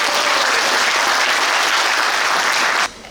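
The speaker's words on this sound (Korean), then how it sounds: "안진걸 소장님께 다시 한번 뜨거운 박수 부탁드립니다." A hall audience at a political lecture gives loud, dense applause for a guest speaker, a continuous roar of clapping that cuts off abruptly near the end.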